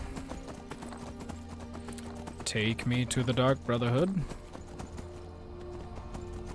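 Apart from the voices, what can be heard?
horse hooves galloping in a video game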